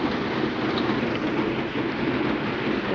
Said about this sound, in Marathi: खूपच पाऊस पडतो आहे आमच्या साईडला